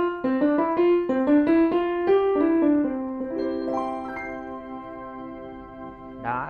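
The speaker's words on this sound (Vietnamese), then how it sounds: "Trong cái bộ tiếng piano này nó sẽ có 11 tiếng." A Roland F140 digital piano on its first piano tone plays a quick rising run of single notes, then settles into sustained chords that ring and decay, with a final soft note struck at the end; no talking.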